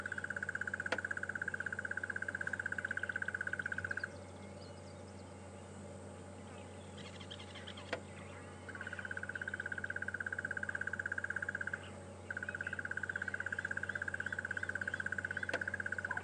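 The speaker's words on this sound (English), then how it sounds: "They're doing a duet performance of crested barbets and a Cape turtle dove," Crested barbets and a Cape turtle dove call together from a tree during an afternoon safari drive at Djuma and Arathusa, with a long, even trill that stops, restarts and breaks briefly over a quiet background.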